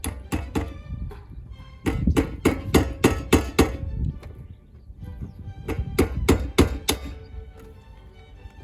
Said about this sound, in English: and give it some gentle banging.